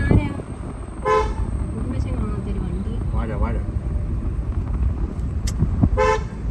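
A car horn honks in short bursts while a woman is taught to drive by her husband, heard over a steady low hum of the car's engine and road noise, with voices talking throughout.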